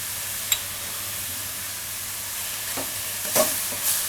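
Bottle gourd cooking in a pan, a low continuous hiss of gentle frying with a few faint scrapes of stirring, close and quiet throughout.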